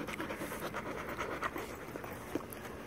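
A small puppy pants quickly and steadily on a hot day at a puppy play group, the close, soft breaths running in an even rhythm with no talk over them.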